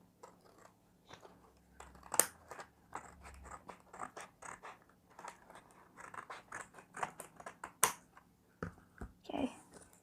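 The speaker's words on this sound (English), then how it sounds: "it says cut here. Let's cut it open." Scissors cut open the plastic packaging of a pop it fidget toy blind bag, giving a series of close crinkly snips and rustles at an uneven rhythm. The sound is fairly quiet.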